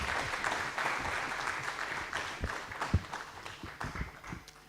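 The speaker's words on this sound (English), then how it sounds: "Let's give Lauren a warm round of applause." Audience applause for a speaker at a USAID Kenya Investment Mechanism closeout event in 2023; sustained group clapping, moderately faint and somewhat distant, with a few louder claps near the end.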